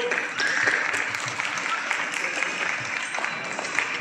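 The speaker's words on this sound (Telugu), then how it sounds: "గట్టిగా చప్పట్లు." An audience at a stage event claps loudly for the couple on stage, a dense, steady round of applause, with a voice speaking over it at times.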